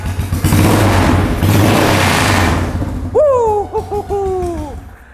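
A modified single-cylinder 400cc Yamaha SR400 chopper revs up loudly in a sustained roar, then drops back as a short rising whine and a few brief blips follow.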